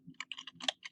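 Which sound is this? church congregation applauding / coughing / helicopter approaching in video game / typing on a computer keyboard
typing on a computer keyboard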